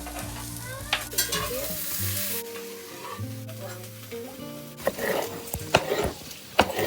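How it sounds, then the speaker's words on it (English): Sweet potatoes and onions sizzle and crackle steadily in a hot pan while a utensil scrapes and stirs, with occasional clacks and taps against the pan. "I got some sweet potatoes and onions frying in there right now"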